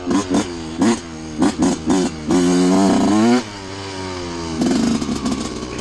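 A dirt bike engine revs hard close by on a trail, with short sharp throttle blips followed by a sustained high-pitched wail during a wheelie, then drops back to a lower buzzing drone.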